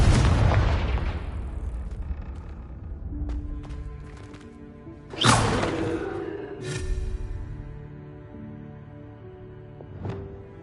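A Confringo blasting spell explodes in Hogwarts Legacy, with a loud booming burst at the start, a second sharp blast midway, and a smaller crack near the end over a rumbling game backdrop.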